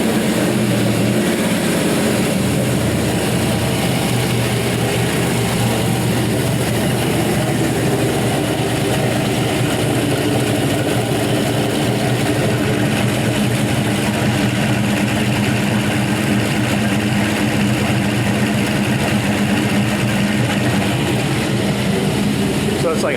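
Big Cam 5.3L LS V8 engine on a stand with many new parts, running at a steady, loud idle throughout, with a dense continuous rumble and someone talking over it.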